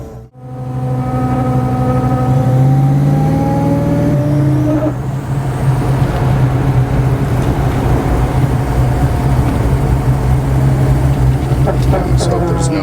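Supercharged 427 LS V8 with an 8-71 blower in a 1934 Chevy street rod, revving loudly up and down, then holding a steady, heavy idle-like rumble close by throughout.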